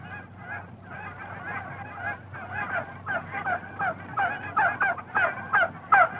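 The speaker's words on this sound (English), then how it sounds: "And there were geese." A flock of geese honks continuously, many overlapping calls building in loudness and density, fairly near, with no talking.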